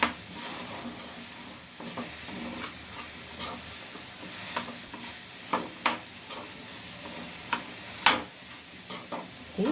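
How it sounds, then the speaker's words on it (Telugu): Coconut and jaggery mixture stirred in a pan for coconut burfi, a steady soft sizzle under repeated scraping strokes of the spoon, with sharper clicks and knocks against the pan scattered through. "మెల్లగా కలుపుకుంటూ ఉండాలండి, లేకపోతే మాడిపోతుంది."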